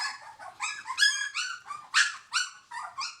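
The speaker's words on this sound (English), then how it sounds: "It's always a great day when you have puppies around here." High, squeaky barks and yips from young puppies on Monkey Mountain in Thailand come in a choppy burst of about a dozen short calls, close and clear with no voices.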